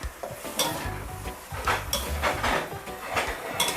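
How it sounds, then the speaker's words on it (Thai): Fried egg tofu stirred gently into stir-fried napa cabbage with tube tofu in a pan, soft sizzling under repeated scrapes and clinks of a utensil against the metal, no voices. "เต้าหู้ไข่ที่เราทอดไว้ค่ะใส่ลงไปค่อยๆคนเขานะคะ"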